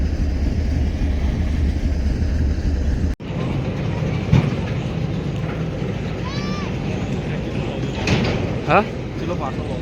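Steady low rumble of a moving train between Ambaliyasan and Vijapur, with rattling and clatter, voices talking over it and occasional squeaks and clanks.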